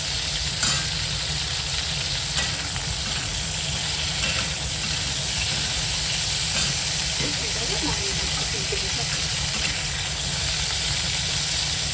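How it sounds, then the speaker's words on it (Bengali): Cauliflower frying in hot oil in a pan, a steady close sizzle and hiss that carries on without a break from start to finish. "ফুলকপিটা হালকা করে ভাজা হয়ে যাবে"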